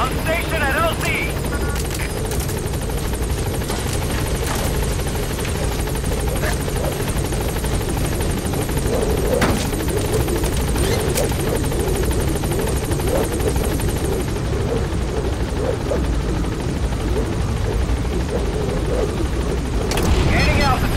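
The B-Quad support helicopter in the video game Metal Gear Solid V arrives with a loud, continuous rotor roar and whine that fills the whole stretch, with radio-style voices heard under it.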